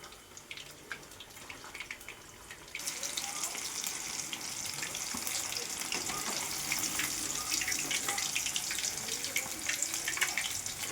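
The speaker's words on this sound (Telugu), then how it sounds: "ఇలా బాగా వేగేదాకా ఇది చేసేసేయాలి వేయించుకోవాలి" Fish fries in a pan of hot oil over high flame, a faint crackling sizzle that jumps louder after a few seconds and then keeps bubbling steadily on its own.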